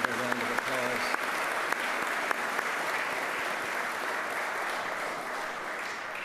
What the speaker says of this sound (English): Let's give David a round of applause